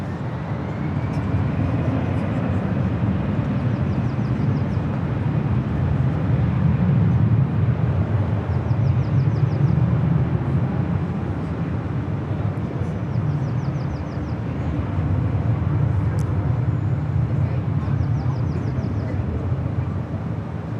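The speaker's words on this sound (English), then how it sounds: "That's Allegiant Airlines Flight 769 heading off to Cedar Rapids, Iowa. Airbus A320." Allegiant Airlines Airbus A320 airliner taking off, a broad steady jet roar swelling and easing in waves over twenty seconds, heard at a distance with faint chirps in the background.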